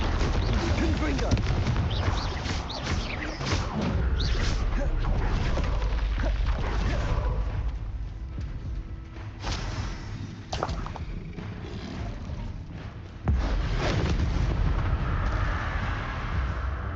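Repeated booming blasts of the Confringo spell in Hogwarts Legacy, heavy bursts landing every few seconds with a loud impact near 13 seconds, over a busy game soundscape with talk mixed in.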